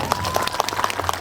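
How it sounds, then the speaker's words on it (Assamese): Audience applause at the inauguration of a theatre stage, a crowd clapping at moderate volume with distinct individual claps standing out, plus a faint steady hum beneath. "আপোনালোকৰ হাত চাপৰিৰে গ্ৰহণ কৰক"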